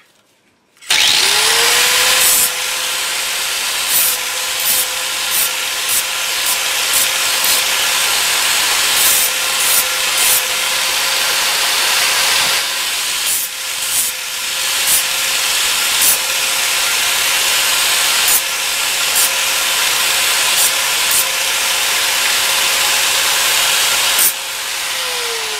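A power sander works the edges of wooden pieces for a homemade chicken feeder, running as a loud, steady whine for about 23 seconds with brief dips as it shifts along the wood, and no voices.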